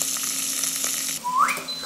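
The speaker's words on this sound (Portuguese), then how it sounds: "No mesmo tacho vamos saltear os camarões" Shrimp sautéing in a pot with salt and garlic, a steady close sizzle with a brief whistling tone rising near the end.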